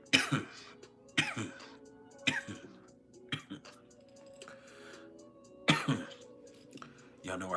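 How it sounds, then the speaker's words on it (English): A person coughing and clearing their throat in repeated short bursts about a second apart, close and moderately loud, with some faint rustling between. "Y'all know I can't cough."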